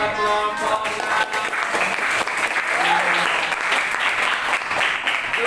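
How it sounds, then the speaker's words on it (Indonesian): A classroom group gets a round of applause, dense steady clapping from many students that fills the whole stretch at a fairly loud, close level. "Tepuk tangan buat kelompok 6"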